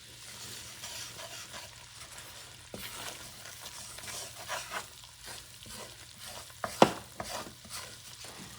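A flour and grease roux for Louisiana-style gumbo is stirred in a hot pot, a soft continuous sizzle with scraping strokes and a sharper clack near the end, close and unaccompanied by talk.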